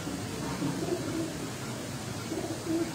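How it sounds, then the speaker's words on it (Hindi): Fancy pigeons belonging to Ustad Dilawar Khan coo softly and repeatedly over a steady, noisy background, with no voices. "उस्ताद दिलावर खां साहब के जी फनियर कबूतर"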